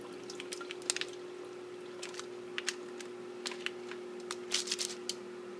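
Liquid from thawed chicken is poured off a tray, giving faint scattered drips and splashes over a steady low hum, with no speech.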